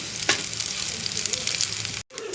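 Chopped green chillies are sautéed in hot oil for paneer bhurji, giving a steady close sizzle with a few stirring scrapes and a brief break near the end.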